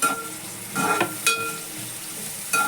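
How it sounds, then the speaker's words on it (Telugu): Sliced onions and dried fish fry in hot oil with a steady, close sizzle, marked by a few clinks and scrapes of a spoon against the pan. "ఆనియన్స్తో పాటు ఎండి నెత్తలు కూడా వేసుకుంటున్నామండి."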